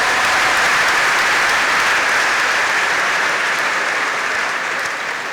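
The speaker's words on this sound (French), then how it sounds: "Je voudrais des applaudissements nourris pour dire que nous sommes d'accord." A Sunday Mass congregation breaks into loud, sustained applause, a dense, steady wash of many hands clapping that holds for several seconds and eases slightly at the end.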